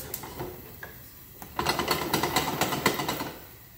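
Flour roux for white sauce being whisked in a pan over medium-low heat, a quick rhythmic run of scraping strokes after a few isolated taps, moderately close.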